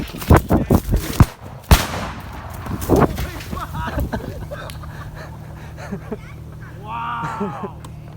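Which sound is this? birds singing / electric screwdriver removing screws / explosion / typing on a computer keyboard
explosion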